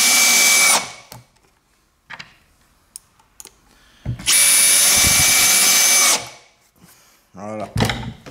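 A power drill fitted with a 4.35 mm bit bores into wood in two bursts, a short one and then a longer steady whine lasting about two seconds, with brief clicks between and a voice speaking near the end.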